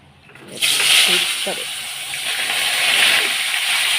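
Potatoes drop into hot oil that was reused from frying pointed gourd, setting off a sudden loud, steady sizzle that holds for several seconds, with faint voice traces under it.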